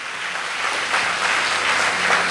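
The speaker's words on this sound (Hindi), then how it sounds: "हम ताली बजा के परमेश्वर को धन्यवाद दें।" Congregation applause during a Sunday church service at Hastings Chapel in Kolkata, a loud, sustained wash of clapping that swells slightly and continues throughout without speech.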